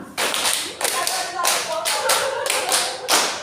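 Quick, sharp hand claps in a classroom positive-discipline exercise, a run of distinct, evenly spaced claps close by with no talking.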